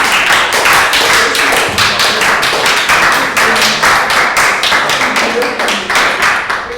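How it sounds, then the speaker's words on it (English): A room full of people clapping steadily and briskly for several seconds, loud and close. "Round of applause."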